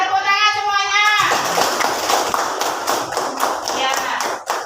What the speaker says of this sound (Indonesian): Bagus Nak Sipa, tepuk tangan semuanya